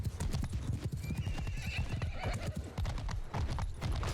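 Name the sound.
horses galloping in Mount & Blade II: Bannerlord video game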